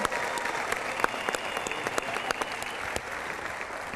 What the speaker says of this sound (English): let's give a big round of applause to all of our 6th grade art semifinalists